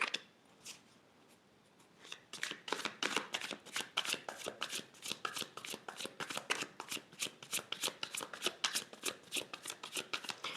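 Tarot cards being shuffled by hand, a quiet start followed by a long run of rapid, crisp riffling flutters repeating close up, with no talking.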